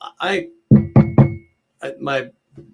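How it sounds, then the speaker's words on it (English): Three quick knocks on a wooden desk sound close and sharp in the middle, framed by speech before and after. "My desk is wood, so I did knock on it."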